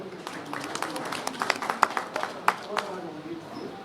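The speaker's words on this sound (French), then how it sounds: "je vous demande encore une fois de l'applaudir" Audience applause at a French-language conference on peace and unity, scattered claps building into a patchy burst of clapping over a murmuring room.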